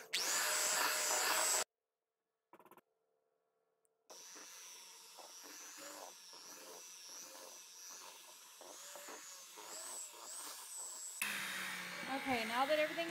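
Electric hand mixer with double beaters whirring through cake batter, a steady motor whine with rising pitch as speed increases, broken by a short pause, with faint beater rattles against the bowl.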